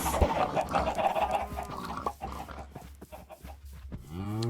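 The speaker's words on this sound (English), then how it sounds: "Chickens." Chickens in a video game clucking, with a quick series of short clucks and chirps and a rising squawk at the end, fairly close and clear, no talk.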